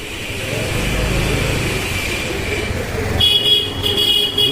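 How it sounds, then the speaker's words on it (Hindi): A water tanker truck passes along a sloping, waterlogged road in Mahavir Enclave, Delhi, with a steady loud engine rumble and traffic noise, followed by a car horn toot near the end. "ये देखिए जैसे ये गाड़ी आ रही है, ये पानी का टैंकर है"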